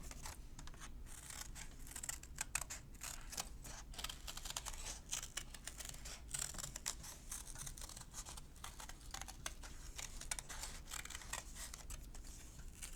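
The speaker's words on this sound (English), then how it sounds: "I'm going to cut that shape out and use it for my background." Scissors cutting out a paper shape for a crayon-rubbing artwork, steady quiet crisp snips and rustles repeating close by for several seconds, with no talking.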